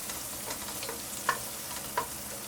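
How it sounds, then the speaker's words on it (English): Boiled octopus and Amalfi lemon rind fry over high heat in a pot, giving a soft continuous sizzle with a couple of brief clinks from a utensil. "add the boiled octopus to it along with the Amalfi lemon rind and fry on high heat for a minute"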